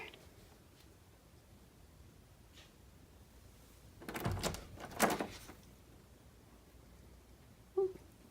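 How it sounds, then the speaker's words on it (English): A bedroom door being closed indoors: a scuffing swing and a firm thud a second later, then a brief sharp knock near the end, all moderately close in an otherwise quiet room. "I go up to my bedroom and close the door."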